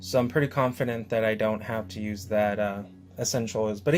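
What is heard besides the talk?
No everyday noises stand out.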